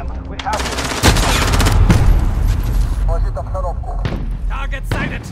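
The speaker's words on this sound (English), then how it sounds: "Precision airstrike." A precision airstrike in Call of Duty: Modern Warfare on the Shoot House map erupts in loud, overlapping blasts and rapid gunfire bursts, with a voice speaking amid the barrage.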